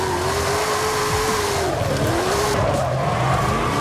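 A Ford F-450 truck in Forza Horizon 5 revs with tires squealing continuously through a drift, the pitch rising and falling, loud and close.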